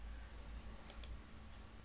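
A couple of quick, faint mouse clicks at a computer desk, close and soft against a steady low hum, with no talking.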